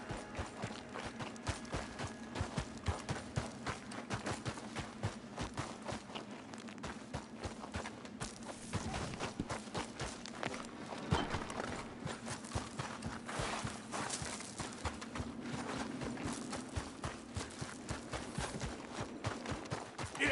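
Horse hooves clip-clop steadily in the Red Dead Redemption video game, a continuous rhythmic walking gait with faint background ambience and occasional sharper knocks, no voices present.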